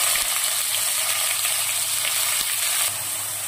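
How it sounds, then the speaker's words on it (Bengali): Chopped onions sizzle in hot oil with fried cardamom and cinnamon, a steady, bright frying hiss close by, with faint clicks and stirring noises scattered through it. "এলাচ দারচিনি ভাজা হয়ে গেছে, দিয়ে দিচ্ছি কুচানো পেঁয়াজ।"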